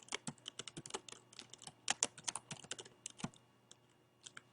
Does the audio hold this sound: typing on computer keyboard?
yes